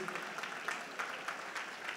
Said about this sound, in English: A round of applause for Miss Maureen Awolonu